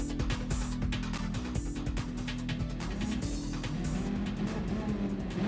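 A Dodge Viper racing in a video game McLaren F1 Invitational event, its engine roaring steadily close up, with rapid gear changes and tire noise throughout.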